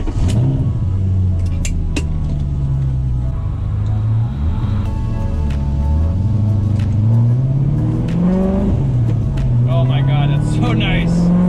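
A BMW E30 fitted with a V8 engine drives along, its loud steady engine drone rising and dipping as the gears change several times, with a voice talking over it.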